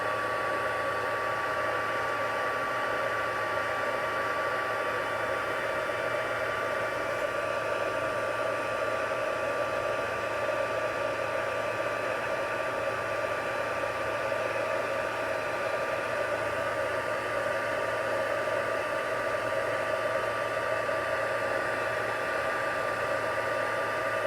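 A heat tool blows a steady, loud, even whoosh with a faint whine as it melts clear embossing powder, running without a break and with no talk.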